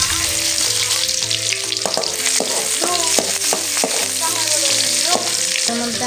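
Chopped green chili and onion fry and get stirred in a hot pan, giving a dense steady sizzle with stirring scrapes, while a melody plays softly in the background.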